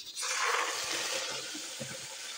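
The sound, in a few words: pouring water into pan with golden onions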